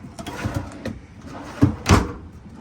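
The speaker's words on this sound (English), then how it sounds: "These are nice deep drawers." Deep storage drawers in a 2013 Forest River Georgetown 280DS RV being opened and shut, giving a few soft sliding rumbles and then two firmer knocks near the end, with faint speech in the background.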